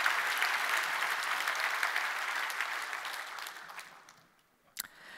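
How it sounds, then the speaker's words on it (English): Audience applause at a technology conference keynote, a dense, fairly distant wash of clapping that fades out over several seconds and ends with a single faint knock. "Can we just give Dan one more quick round of applause?"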